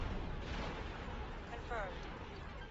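A spaceship takes weapon hits in X4 with a Star Wars mod, producing a continuous heavy rumble of muffled impacts and blasts with a brief whining sweep partway through.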